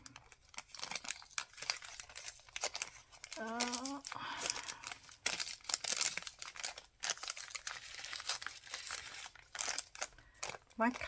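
Crinkling and tearing of a paper parcel's packaging as a small gift box is opened, with brisk rustles and rips throughout and a voice speaking briefly partway through.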